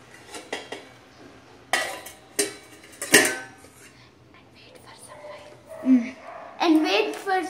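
A spoon is set down and a lid placed on a cooking pot of okra pulusu, producing crisp metallic clinks and a ringing clatter near the mic, with a person talking between the sounds.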